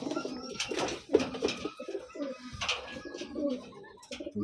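Pigeons coo in soft, repeated bursts at close range, with low, throaty calls rising and falling against a quiet background.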